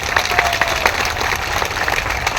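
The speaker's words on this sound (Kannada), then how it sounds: "ಚಪ್ಪ ಚಪ್ಪಾಳೆ ಸಾಹೇಬರಿಗೆ" An audience claps at a gathering of a village revenue assistants' association in Karnataka, with moderate, steady applause and scattered sharp claps, slightly distant and alone throughout.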